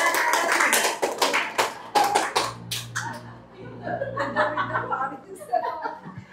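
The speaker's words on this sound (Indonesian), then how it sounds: "Tepuk pramuka." A group doing the Indonesian scout clap (tepuk pramuka), a quick patterned burst of hand claps and taps repeated in short rhythmic phrases, mixed with chuckles and laughter and a voice speaking.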